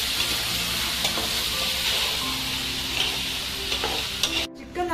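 Spice-marinated chicken frying in a pan for chicken kabsa, a continuous close sizzle with scraping stirs and occasional clinks of a spoon against the pan, ending in a brief clatter.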